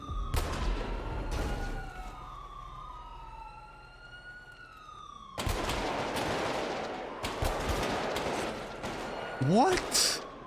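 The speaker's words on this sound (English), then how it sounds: "they're having a massive gunfire, Little Soul." Bursts of automatic gunfire crackle in a GTA roleplay shootout, loud and dense from about five seconds on, with earlier shots under a wailing police siren.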